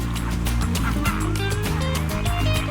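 A flock of flamingos calling during a courtship dance on a beach, a dense, loud chorus of overlapping nasal honks and goose-like calls, continuous and close.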